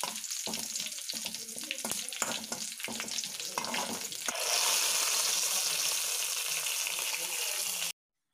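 Chopped onions and curry leaves frying in oil for a cucumber pulissery tempering: first choppy bursts of crackle and clatter, then a loud, continuous close hiss that runs on until the sound abruptly cuts off.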